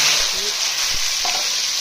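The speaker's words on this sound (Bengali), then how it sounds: "পাশাপাশি এই যে আলুটা ভেজে নাও।" Potatoes fry in hot oil with a steady, loud sizzle that fills the whole moment, and a faint stir or scrape can be heard once or twice.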